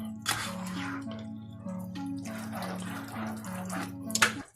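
Water poured into a dish of tomato sauce for Italian baked rice, a steady splashing trickle for several seconds over a low electrical hum, ending in a brief louder splash.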